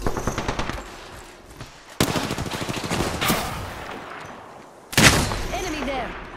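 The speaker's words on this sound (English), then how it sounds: "I'm getting shot." Rapid automatic gunfire in the battle royale game Apex Legends, dense bursts of shots rattling close by with a sharp loud burst near the end, voices talking over the action.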